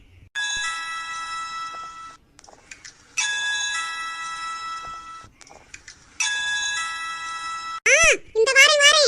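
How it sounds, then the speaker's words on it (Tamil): An electronic doorbell chimes in three long bursts of a steady tone at a house, each followed by a pause, then a quick warbling ring closes the clip; up close and clear, with no talking over it. "சரி, காலிங் பெல்லாவது அடிப்போம்."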